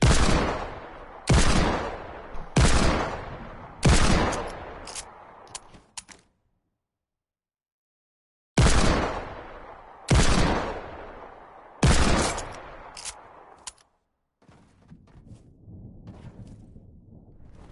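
Hand cannon shots from the Fortnite video game: two groups of four heavy, booming reports with short gaps, each blast ringing out and decaying, separated by a stretch of silence, followed by faint low rumble.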